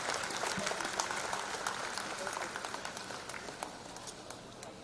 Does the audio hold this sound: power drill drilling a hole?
no